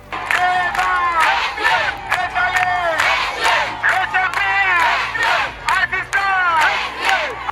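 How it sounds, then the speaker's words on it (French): A village crowd cheers and ululates in welcome, loud and close, with continuous overlapping high voices and shouts throughout. "la fondation a eu droit à un bain de foule qui lui a réservé un accueil chaleureux"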